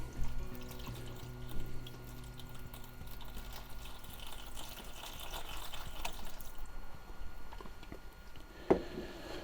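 Water pours steadily from a jug onto potted chilli seedlings, a soft continuous trickle and splash close by, with faint patters and a brief knock near the end.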